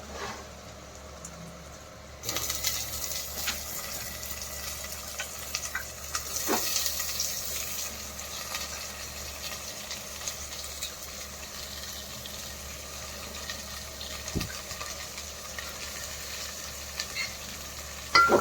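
Shredded cabbage, added to a pan over cooked ginger-garlic paste, hisses and sizzles steadily as it starts to fry, with occasional scrapes and knocks of stirring close by. The sizzle is moderate and continuous, and no one speaks.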